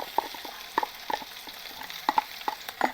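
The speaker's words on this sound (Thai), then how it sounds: "หอมเจียวกระเทียมให้เหลืองก่อนนะครับ เสร็จแล้วก็ หมูสับลงไป" Sizzling of garlic and minced pork frying in a pan, with a series of sharp clicks and scrapes of stirring, irregular and close, no talking.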